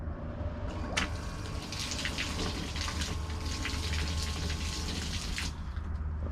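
Water from a 300 gallon per hour pump gushes through a tube with a steady rushing, splashing flow, near and continuous over a low pump hum, then stopping abruptly near the end.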